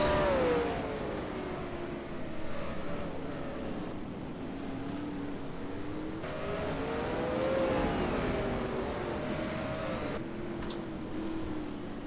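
Late model stock cars race around the Atlanta Legends Oval, a steady droning engine roar rising and falling in pitch as cars pass, fairly distant and continuous without talk.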